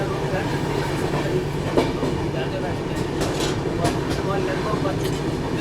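The 12860 Gitanjali Superfast Express, running from Howrah to Mumbai CSMT, rolls along the tracks with a steady, loud, close rumble and faint rhythmic wheel clatter throughout.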